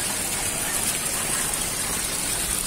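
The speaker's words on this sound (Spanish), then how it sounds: "es un nacimiento de agua que sale de entre las rocas" Spring water flowing out from between rocks at a natural waterfall spot in the State of Mexico, a steady close rushing gush that holds constant throughout with no voices.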